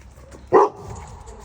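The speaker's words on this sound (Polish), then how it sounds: "Tu zauważyła Zosię i zaczęła ją wołać" A single sharp dog bark rings out close by against a quiet background.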